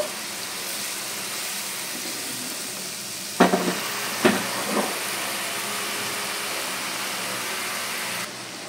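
Bottle gourd and prawns cook in a pan under a constant sizzling hiss, broken by a few clattering scrapes of the stirring spoon partway through, close and wordless.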